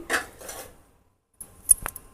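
Dishes washed by hand at a kitchen sink: a few close, light clinks and clatters of utensils, separated by a short quiet gap.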